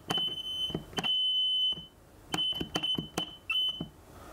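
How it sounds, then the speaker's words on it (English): A buzzer wired to a telegraph switch beeps out a Morse code message, a mix of short dits and longer dahs in an irregular rhythm, close and clear with quiet gaps between the tones. "I'm now going to send a message using Morse code"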